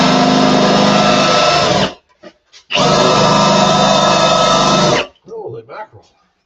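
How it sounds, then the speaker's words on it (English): A power drill spins freely in a screw hole without biting in, two long loud whirring bursts of about two seconds each with a short pause between, followed by faint clatter and brief voices. "couldn't drill it. It was just spinning in there."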